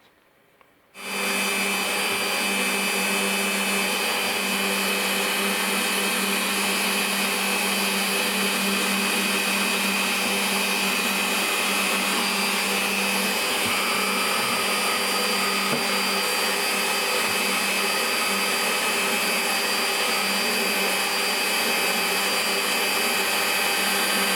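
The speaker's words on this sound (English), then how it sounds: "I'm going to get this set up in my pillar drill, and we'll get these" A pillar drill whines steadily and loudly for the whole stretch after a brief quiet start, a constant motor hum with no voices.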